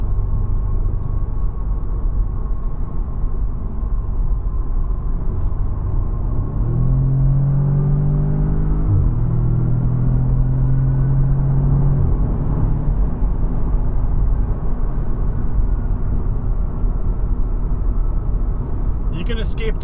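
A 2016 Audi S3 driving, with a steady engine and road rumble throughout and a rising then falling engine tone in the middle as it accelerates and shifts.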